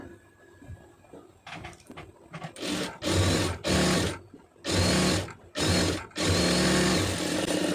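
A sewing machine stitches a hem along marked cloth in several bursts, each one a steady loud whirring run separated by short pauses, close by with no talking.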